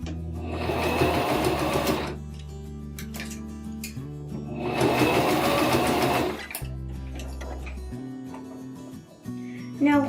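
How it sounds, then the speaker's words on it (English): A sewing machine runs two long, loud bursts of stitching on a water bottle pouch, with pauses and a few short clicks and taps between the runs and none at the end. "I would do a back stitch just to enforce that it's tight and it won't unravel."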